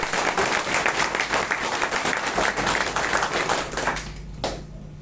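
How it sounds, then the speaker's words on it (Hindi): Audience clapping hands in appreciation at an event, a dense burst of applause that fades out near the end, followed by a brief final clap. "इन लोग के लिए जो है एक दिल से जो है ताली बजाइए"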